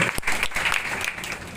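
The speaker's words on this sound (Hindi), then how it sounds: "एक बार के सम्मान में जोरदार तालियां बजाकर" Loud applause rings out at a political gathering, a short, dense stretch of clapping throughout, with a couple of sharper claps standing out.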